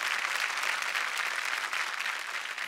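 Dense, even applause from a studio audience at a Marathi television show, a strong continuous wash of many hands clapping at once, close and unbroken, with no speech over it.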